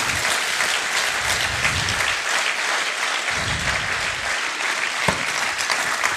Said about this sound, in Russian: Давайте подарим аплодисменты Элите и Эдгару.